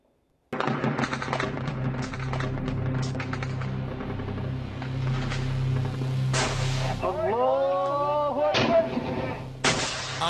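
Combat gunfire from US forces in Afghanistan, loud rapid bursts and sharp reports over a continuous heavy rumble, with shouted voices partway through.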